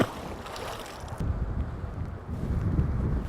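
Wind gusts buffet the microphone on an open fishing boat out after walleye and northern pike, a rough, low rumbling roar that swells and stays loud for a few seconds with no talking.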